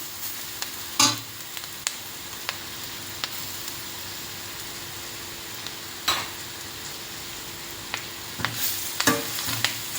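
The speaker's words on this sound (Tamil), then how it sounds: "கேரட்டை போட்டு நல்லா வதக்கிக்கோங்க." Grated carrot sautéing in a pan, a steady low sizzle broken by occasional sharp scrapes and clinks of a spoon stirring, close and fairly quiet with no voices.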